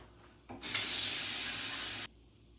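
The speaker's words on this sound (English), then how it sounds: "I'm going to pause on the talking for a sec while I wash my face" Water runs from a bathroom sink tap while someone washes their face, a steady close hiss that starts abruptly, holds for about a second and a half, then cuts off.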